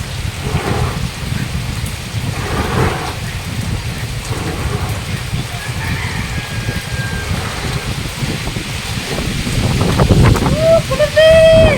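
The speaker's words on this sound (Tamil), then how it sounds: "காத்து பலமா அடிக்குது. காத்து செம மழை பாத்தீங்களா?" Heavy rain pours steadily with strong wind gusting across the microphone during Cyclone Fengal at a house and garden, a loud continuous wash that swells louder near the end.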